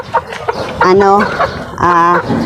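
Chickens cluck loudly and close by on a backyard farm where chicks are raised, with a few drawn-out calls and short clucks over faint background sound.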